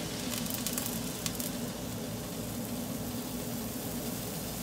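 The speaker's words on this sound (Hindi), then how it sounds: "पैन को अच्छी तरह से ग्रीस कर लें। इसके अंदर बिस्मिल्लाह बैटर डालेंगे" Pizza pancake batter sizzles in a greased pan, a loud, dense, continuous frying hiss that holds steady throughout with a few crisp crackles near the start.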